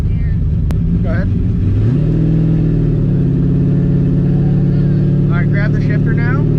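A nitrous Ford Mustang engine drives in first gear with a loud, steady drone and rumble that rises in pitch early on and then holds. People talk over the engine.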